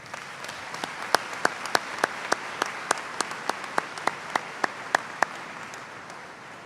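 A fairly quiet round of applause rises from a commencement audience, a soft murmur of many hands with one closer clapper beating out a steady, distinct rhythm about three times a second.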